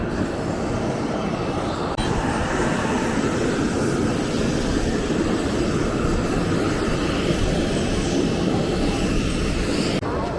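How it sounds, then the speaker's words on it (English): A seaplane's aircraft engine drones loud and constant at close range, a steady unbroken roar with no voices over it. "We're heading to the seaplane."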